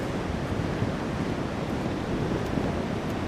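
Rough sea waves at Hamiltons Gap, a loud continuous roar of surf close by, with wind buffeting the microphone throughout.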